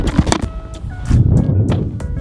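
A Honda FK8 Civic Type R fitted with a TOMEI Type D catless exhaust, its loud raspy exhaust note swelling into a sustained low rumble close by, after a few sharp pops.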